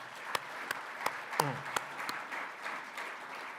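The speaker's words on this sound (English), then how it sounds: "Let's give them another round of applause." An audience applauds at a Michigan high school athletics awards show, a sustained wash of clapping punctuated by several sharp, louder claps close by.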